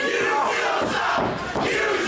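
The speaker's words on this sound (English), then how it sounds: "And that crowd eating Channing Thomas alive and perhaps seems to be getting to him a little bit here" A dense arena crowd at an independent wrestling tag team match roars continuously, loud and close, with shouts and jeers blending into a steady wall of noise that dips briefly before swelling again.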